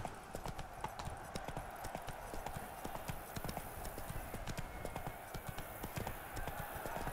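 Horse hooves in The Witcher 3 clip-clop at a brisk, steady rhythm of sharp close strikes, continuing evenly throughout over a faint background.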